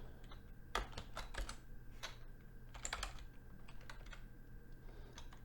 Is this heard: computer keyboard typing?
yes